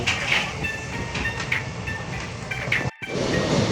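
A passenger train runs near Lonavala with a loud, close rumble, a hiss and rail clatter, heard from on board. A brief dropout comes near the end.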